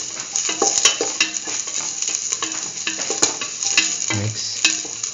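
Chili stirred into okra and mustard rice frying in a pan, a constant close sizzle under repeated scraping and clinking of the spoon against the pan, with no voices.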